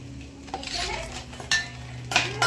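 A spoon stirs spices into a mango pickle mix, making a few scraping strokes and several sharp clinks against a metal vessel across a short span.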